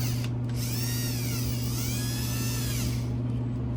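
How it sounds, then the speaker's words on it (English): A drill bores through an aluminum part of a small motorcycle engine build, a steady high whine with a sweeping pitch that rises and falls as the bit cuts, loud and close, running continuously for several seconds. "luckily it's aluminum, so you just drill through it pretty quick."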